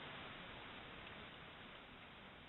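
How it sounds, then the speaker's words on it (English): Heavy rain pours down during a storm as a constant, dense, faint hiss with no breaks and no voices. "Look at all that heavy rain."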